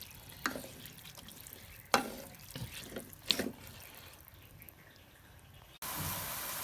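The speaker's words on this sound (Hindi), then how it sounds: "हम इसमें थोड़ा सा पानी ऐड करेंगे, बस ज़्यादा नहीं" Water is poured into a pot of mash daal (urad lentils) during cooking, giving a few short splashing pours and clinks with a steadier trickle and hiss near the end, with no talk.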